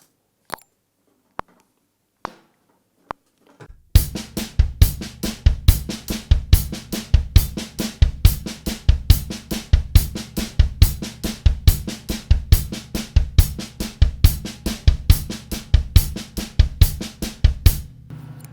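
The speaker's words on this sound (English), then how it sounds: "the only accents you should be hearing so far will be the accents on the hi-hat" A drum kit plays a steady groove after a few sparse opening clicks, with crisp hi-hat hits accented on a regular pulse over kick and snare.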